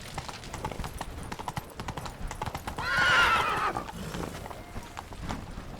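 Horse Roach gallops in a video game with steady clip-clop hoofbeats and a loud whinny near the middle, while game sounds and a voice run underneath.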